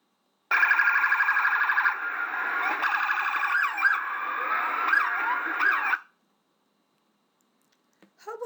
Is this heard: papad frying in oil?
no